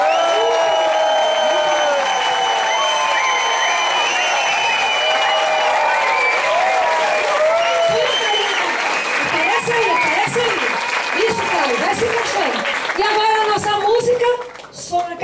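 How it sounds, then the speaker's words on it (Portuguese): A large audience claps and cheers after a performance by children, dense, sustained applause that fills the room for about fourteen seconds before tapering off at the end, with voices calling out amid the clapping. "Uma salva de palmas e muito obrigada."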